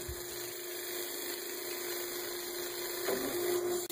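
A steady, high-pitched power sander whirs continuously at close range, sanding the rim of a pin oak hollow form, a constant electric hum with a slight change in pitch near the end.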